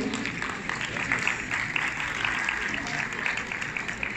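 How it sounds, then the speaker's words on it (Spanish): Audience applause for a building administrator at a Spanish-language conference, a moderate, steady patter of many hands clapping, slightly distant, with some murmured voices underneath. "Fuerte el aplauso para el síndico."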